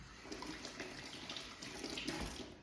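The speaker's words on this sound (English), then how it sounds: "Just wash my hands." Tap water running steadily into a sink while hands are washed in a home kitchen, a soft continuous splashing close by with no talking.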